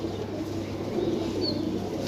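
Ferozpuri pigeons coo softly in a loft or enclosure, a low steady murmur of birds with faint background hum and no talking.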